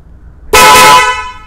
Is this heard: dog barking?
no